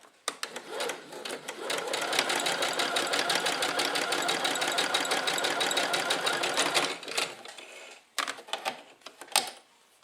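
A sewing machine stitches along the fabric edge in one long, fast, steady rattling run of close, loud needle strokes, then stops and gives a few short, separate mechanical clicks and taps.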